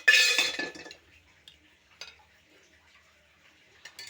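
Mutton in a pot of masala is stirred, opening with a loud scraping rush that fades, then a few sparse, faint metallic clinks of the spoon against the pot.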